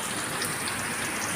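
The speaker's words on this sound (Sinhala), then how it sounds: "අද නම් හොඳට වහිනවා" Steady rain falls outside, a dense, even hiss that holds at the same level for the whole short stretch, with no voices.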